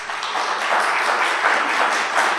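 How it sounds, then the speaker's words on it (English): An audience at a city council meeting applauds the board members in a soft, steady patter that holds at an even level without speech over it. "I want to give them a round of applause for their hard work"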